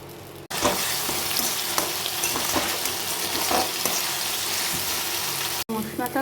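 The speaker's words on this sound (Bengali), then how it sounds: "এবার এটা আমি ভাজা পেঁয়াজের এখানে দিয়ে দিলাম মশলাটা।" A paste of onion, garlic, ginger and green chili hits fried onions in a pan while cooking chicken biryani, loud steady sizzling with stirring scrapes, bracketed by brief silent cuts.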